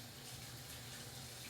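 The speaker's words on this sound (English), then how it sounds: "I'm going to pull my napkin to turn on my water" A tap runs steadily for handwashing, a continuous close splashing stream of water into a sink with no speech over it.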